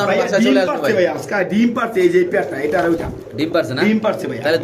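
Spanish pigeons for sale coo close by while someone talks loudly over them, the birds' low throaty calls mixed in with his voice.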